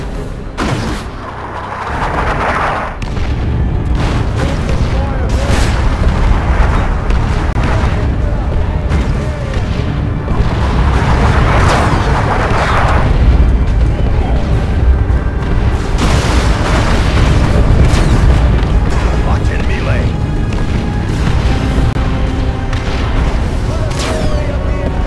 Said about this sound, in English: Another barrage!